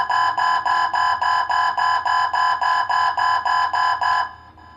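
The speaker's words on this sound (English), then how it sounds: "we've got the alert at full volume for a few seconds, and then the volume drops way down" A Whistler Pro 68SE laser radar detector alert beeps loudly in a rapid, steady series of pulsed tones for about four seconds, then abruptly drops to a much quieter level.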